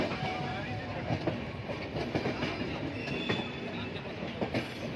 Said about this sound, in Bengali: দেখতে আমাদের ট্রেন ছেড়ে দিল